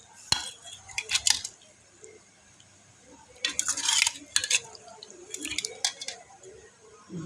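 Rice is served and vegetable kootu kuzhambu poured onto a plate, scattered clinks and scrapes of a metal spoon against the dish with soft wet squelches, in short bursts separated by quiet gaps.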